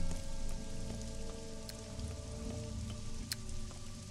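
Steady rain falling in the video game Pathologic 2, a continuous wash of patter over a low droning background hum, with a few faint sharp ticks and no speech.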